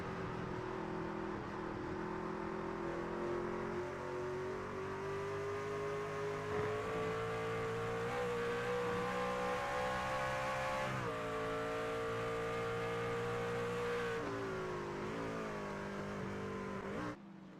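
Racing truck engines roar in a video game on the 2.4-mile Watkins Glen road course in upstate New York. A steady, loud multi-engine drone rises and falls as the trucks run nose to tail, with no talk.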